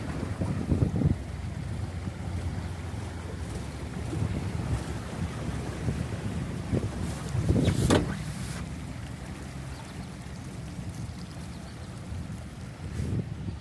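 A KamAZ amphibious truck fords a river, giving a low, rumbling engine and water-wash roar under steady wind buffeting on the microphone, with a louder surge of splashing about two-thirds of the way through.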